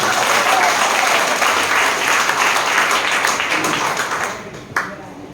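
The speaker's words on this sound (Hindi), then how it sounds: "ये शख्स के लिए जोरदार ताली होना चाहिए" Sustained audience applause at a leadership summit event in Bhagalpur, dense steady clapping that tapers off toward the end with a last few scattered claps.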